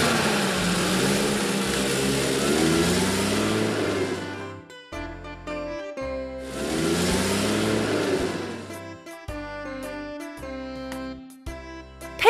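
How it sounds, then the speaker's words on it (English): Vintage car engine revving in two long swelling bursts, loud and close, each rising then cutting off, with separate short tonal sounds in between. "Vintage car."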